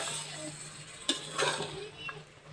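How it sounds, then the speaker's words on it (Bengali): Vegetable stalks sautéing in a pan with country chicken, with jackfruit seeds and potatoes nearby, give a low steady sizzle broken by a few sharp scraping stirs of a spoon against the pan. "এখন আমি ডাঁটাগুলো দিয়ে সুন্দর করে কষিয়ে নিচ্ছি।"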